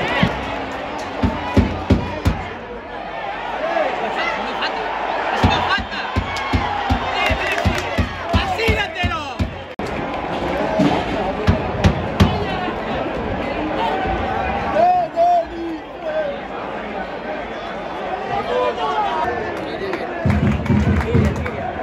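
Football stadium crowd roaring and cheering in reaction to a Las Palmas goal from a long-range shot, a dense sustained wall of voices with surges and shouts throughout.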